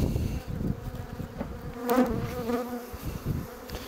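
Honeybees covering a brood frame from a hive buzz in a dense, close hum that swells and dips, with occasional handling knocks and no talk.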